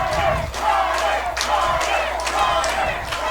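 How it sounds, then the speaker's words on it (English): Winamac supporters at a boys soccer sectional against Caston cheer on their keeper, a steady loud crowd roar with rising shouts and a few claps throughout. "They're Winamac's cheering on the keeper."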